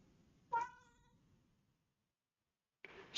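A pet cat named Spike lets out a single clear, close meow, then falls quiet before a second brief cry begins at the end.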